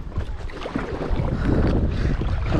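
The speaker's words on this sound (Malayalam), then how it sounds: "കാറ്റുണ്ട് ഗൈസ്, കാറ്റുമുണ്ട്, നല്ല ഓളമുണ്ട്" Gusty wind buffets the microphone while water sloshes and laps around a kayak out on a dam reservoir lake, a steady, close, rumbling wash that swells louder in the second half with no voices.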